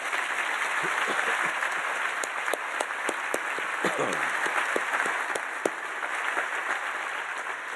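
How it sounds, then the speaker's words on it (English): Applause at a Heritage Society dinner fills the room as a dense, continuous patter of many hands, with a few sharper individual claps standing out and faint voices underneath. "I think that deserves a round of applause, please"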